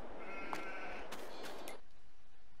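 A single sheep bleats in the Farming Simulator 22 farm game, one drawn-out wavering call lasting about a second, clear and moderately loud over a faint steady background.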